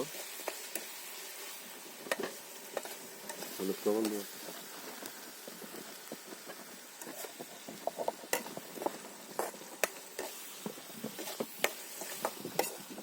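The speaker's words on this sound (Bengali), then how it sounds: "এই জালের কুচি দিয়ে কিছুক্ষণ নাড়াচাড়া করে আমরা মাছগুলো দিব" A slotted ladle stirs a fish mixture frying in a pan at an outdoor cooking spot in the Sundarbans, with steady scraping and a soft sizzle, plus a few brief louder clacks of the utensil against the pan.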